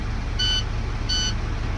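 Two short tonal blasts, evenly spaced and fairly loud, sound from a Class A truck cab during an in-cab pre-trip inspection, over a steady low idling rumble with no talk.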